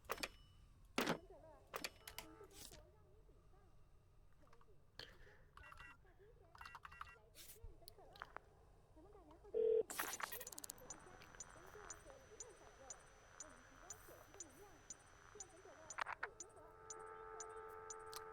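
In the Shadows of Doubt video game, a phone keypad gives a series of short, sharp dialing beeps, followed by a steady ringing tone, with occasional speech in the background.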